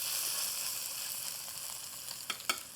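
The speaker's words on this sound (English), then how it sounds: "Yep, there's the sizzle." Catfish fillet sizzling steadily in hot oil in a skillet, a soft continuous frying hiss with a couple of brief crackles near the end, heard alone.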